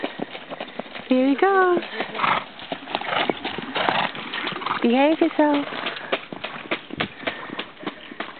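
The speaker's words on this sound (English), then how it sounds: "He's exercising his horses." Harness horses trotting past while pulling sulkies on a small homemade exercise track, their rhythmic clip-clop hoofbeats fairly close, with people talking over them.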